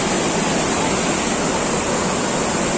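The Lubuk Hitam waterfall roars as a loud, dense, unbroken rush of falling water, heard up close with no talk over it.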